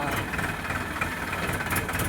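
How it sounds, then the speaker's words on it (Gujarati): A tractor engine runs with a steady, rough rumble throughout, close by and moderately loud, with faint background noise. "ટ્રેક્ટરનું ડ્રાઇવિંગ કરે બરોબર."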